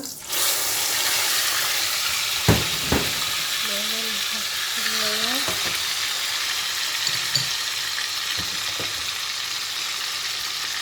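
Meat sizzles in hot butter in a pan for kebab while being stirred, a steady close frying hiss broken by a few sharp clinks and scrapes of the utensil.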